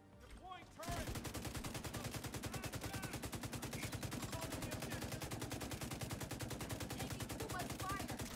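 A deployed turret in The Division 2 opens up with rapid, sustained automatic gunfire, loud and continuous after a brief quieter moment at the start.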